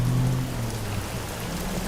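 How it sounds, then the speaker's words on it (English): Wind-driven rain falling steadily, a dense, even hiss of drops with a low rumble underneath, loud and close throughout. "and the wind brought rain."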